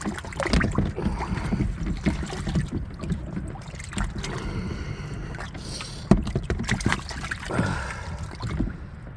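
Water rinsing out a whitetail deer skull after bleaching, a close continuous splashing and rushing wash with gusty bursts, running steadily throughout without speech.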